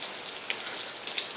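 Steady light rain falling outdoors during car work, a soft continuous patter of drops with a few sharper individual raindrop taps standing out.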